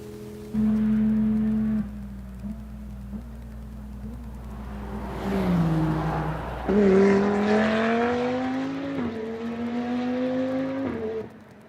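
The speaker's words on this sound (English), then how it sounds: "this this Aston Martin DBS 770" An Aston Martin DBS 770 engine roars and revs at Circuit of the Americas, shifting pitch through gears as it accelerates and downshifts, loud and close, with no one talking.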